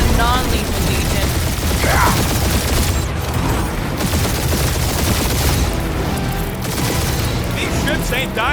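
Sustained gunfire in a Guardians of the Galaxy space battle, a loud continuous rattle of shots and booms running throughout, with characters talking over it.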